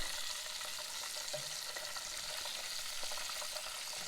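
Arctic grayling fillets frying in a pan with salt and pepper, a steady close sizzle and crackle with small pops throughout and no talking.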